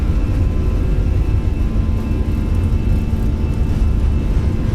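Airliner jet engines roar at a steady full-power pitch during a takeoff roll in a flight simulator at Dulles, a loud continuous rumble with a faint whine on top and no speech.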